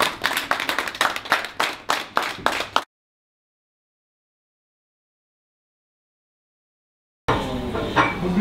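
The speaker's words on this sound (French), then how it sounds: "On applaudit quand même." An audience at a political gathering in London claps in a quick rhythmic burst of about a dozen claps lasting roughly three seconds, then it cuts to silence before some background noise returns.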